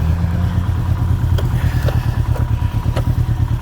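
A 2021 Can-Am Ryker three-wheeled motorcycle's engine rumbles loud and close as it pulls away, a steady low throaty drone with light clatter on top and no talk.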